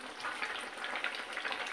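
Tempering spices sizzle into a thin koi fish curry cooked with mixed winter vegetables, giving a soft, continuous crackling hiss at low volume with no talking.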